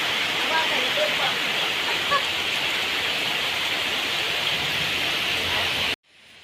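Light drizzle falls in a Konkan village, a steady, even hiss of fine rain that holds throughout before cutting off abruptly near the end.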